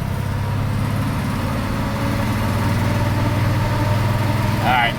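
A 1968 Chevy El Camino with a small-block V8 and 700R4 automatic cruises along, its steady low engine drone rising slightly as it pulls, with a brief high squeak near the end.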